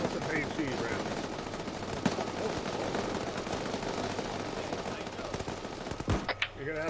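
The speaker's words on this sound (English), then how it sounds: "Everyone hold fire with your machine guns." Automatic machine gun fire in the Arma military shooter at night, a dense continuous stream of rapid bursts lasting throughout, with chatter of radio voices underneath and a few sharper louder shots near the end.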